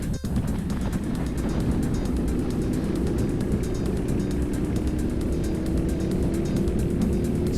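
Race cars lap a circuit at Rye House during an evening race, a steady close engine drone with a buzzing, pulsing edge running continuously with no speech.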